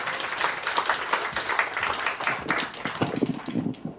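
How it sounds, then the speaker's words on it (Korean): A crowd applauds at a political party launch ceremony, with dense, steady clapping throughout and no speech over it. "박수로 환영해 주시기 바랍니다."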